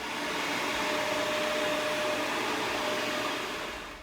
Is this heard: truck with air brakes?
no